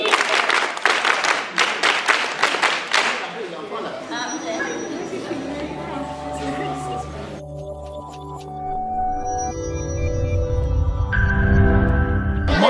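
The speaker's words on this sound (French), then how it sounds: "On applaudit très fort pour maman." Crowd at a Global Handwashing Day event in Cameroon claps loudly for several seconds, a dense burst of many hands, then fades into crowd chatter and background music with voices talking.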